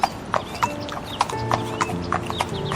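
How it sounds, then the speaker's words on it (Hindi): A horse gallops through a forest carrying a king, its hooves clip-clopping in a steady, even rhythm at mid distance over faint sustained background tones. "राजा ने अपने घोड़े की रफ्तार और बढ़ा ली ताकि वह शेर का शिकार कर सके"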